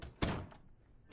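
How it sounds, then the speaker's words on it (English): A door bangs once with a sharp, loud thunk near the start, followed by a softer knock and a quieter stretch of room noise. "Open the doors, Stuart."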